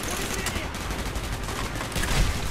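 Sticky charge explosions and rapid gunfire in the Call of Duty Black Ops video game, dense overlapping bursts of shots and blasts at moderate loudness, continuing without a break for a few seconds.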